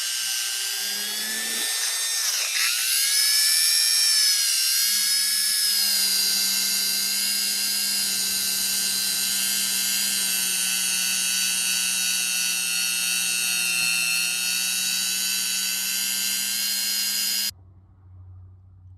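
A Dremel rotary tool cleans the rear brake drum of a Honda Rancher 420 ATV, giving a steady high-pitched whine with a lower hum, loud and close and running continuously for about seventeen seconds before cutting off.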